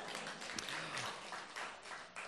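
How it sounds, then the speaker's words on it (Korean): A church congregation claps together in a sustained, dense round of applause during a sermon, heard at a distance and fairly quiet, with no voices over it. "큰 박수 부탁드리겠습니다."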